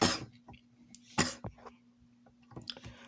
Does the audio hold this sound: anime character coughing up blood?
yes